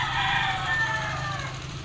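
Chickens on a poultry farm: a rooster crows and hens cluck over a steady low background hum, moderately close.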